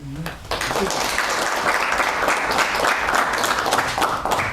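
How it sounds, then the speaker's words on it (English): Students at a high school capital markets quiz competition in Zimbabwe clap together in a sustained, dense round of applause that fills the room, loud and steady from start to finish. "So clap for yourselves now because you are all winners."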